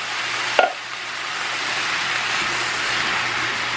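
Pork and two cans of pineapple are stirred in a hot pan: a single utensil clank near the start, then a loud, steady sizzle and frying hiss that carries on alone.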